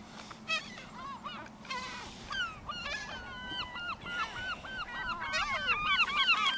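Seagulls on a sandy seaside beach give repeated squawking calls, several birds close by, overlapping and growing louder over the steady wash of surf.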